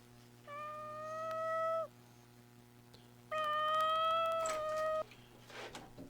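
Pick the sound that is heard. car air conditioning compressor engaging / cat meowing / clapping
cat meowing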